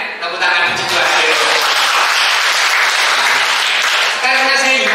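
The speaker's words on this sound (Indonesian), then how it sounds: "Tepuk tangan di situ aja." A room full of people breaks into loud, steady clapping during a Catholic priest's talk, filling the whole stretch with dense applause that swells briefly near the end.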